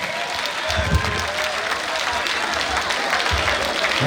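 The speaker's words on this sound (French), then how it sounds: "On va se mettre debout pour les applaudir." A standing audience applauds steadily, dense clapping filling the space throughout, with a few voices faintly under it.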